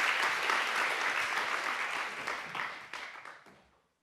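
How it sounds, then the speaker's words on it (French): An audience at the opening of a French conference gives dense, sustained applause that stays steady and fairly loud, then thins and fades out to silence near the end. "Je vous demande de bien vouloir l'applaudir"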